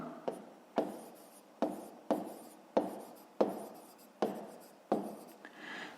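A pen writing on paper while working a fifth-grade geometry exercise, heard as a series of short scratchy strokes, about eight in quick succession, close and fairly loud with no talking.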